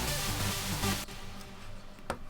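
A wide trance saw lead synth layered with a deep bass sound holds a thick, loud chord for about a second, then drops away into a quieter fading tail with a faint blip.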